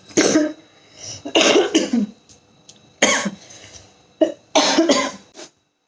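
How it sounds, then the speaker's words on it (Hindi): Several bursts of coughing from one nearby person, in clustered fits separated by short pauses, with a throat-clearing sound among them. "मुझे थोड़ी खांसी आ गई थी"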